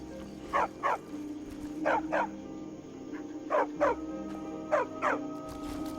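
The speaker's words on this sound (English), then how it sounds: "This dog looks annoyed to be barking at me." A dog in Skyrim barks in paired yaps, four double bursts spaced about a second apart, close and clear over a low droning game background.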